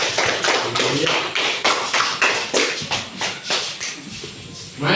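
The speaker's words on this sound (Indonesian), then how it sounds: "Ayo, tepuk tangan yang meriah lagi" Classroom audience of students clapping for a student group, a dense, uneven burst of hand claps in pulsing waves, loud and close, tapering toward the end, with voices mixed in.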